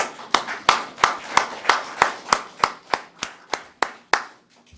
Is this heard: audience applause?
yes